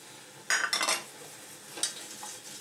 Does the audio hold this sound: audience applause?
no